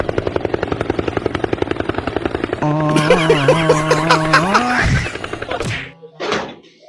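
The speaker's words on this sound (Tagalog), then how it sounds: "Helicopter yan." Rapid rhythmic helicopter rotor thudding, then a loud mechanical tonal drone that cuts off, followed by brief noisy bursts.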